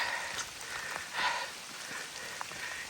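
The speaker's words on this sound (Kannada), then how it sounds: "ಮೇಲೆ ಒಳ್ಳೆ ಮಳೆ." Heavy rain falls at Kumara Parvatha (Pushpagiri) in the Western Ghats, a steady faint hiss of drops on leaves and ground that continues without a break.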